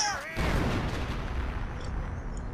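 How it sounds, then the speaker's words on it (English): A howitzer fires in the World War II strategy game Company of Heroes, one sharp artillery boom followed by a rumbling, crackling tail of battle noise for a couple of seconds. "we can see howitzer shoot right for this stormtrooper"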